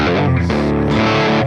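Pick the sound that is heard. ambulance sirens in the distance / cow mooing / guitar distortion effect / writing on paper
guitar distortion effect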